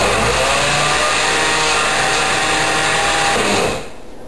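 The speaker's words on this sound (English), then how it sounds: "Let's put the lid on the blender and mix this up." A blender churns frozen berries into protein ice cream, a loud, steady motor whir with a grinding edge that runs continuously before cutting off sharply near the end, leaving a faint quiet tail.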